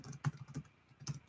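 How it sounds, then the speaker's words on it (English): Three quick, light keystrokes on a computer keyboard, close and quiet, with no talking. "Man, you guys are giving me a workout with what I'm typing out here."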